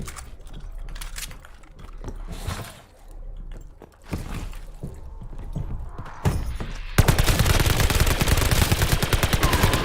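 Call of Duty Vanguard gunfire in a solo zombies-style session: scattered single shots and muffled game sounds, then a loud, sustained rapid burst of automatic fire closing out the clip.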